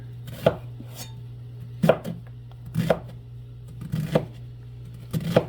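Knife chopping vegetables for soup on a board, six separate sharp thuds spaced about a second apart, close and clear over a low steady hum.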